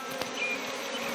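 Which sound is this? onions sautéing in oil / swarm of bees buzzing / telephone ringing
swarm of bees buzzing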